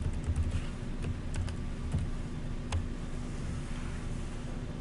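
Fingers tap out a password on a computer keyboard, a quick run of light clicks with short pauses between keystrokes, close and fairly quiet over a steady low hum.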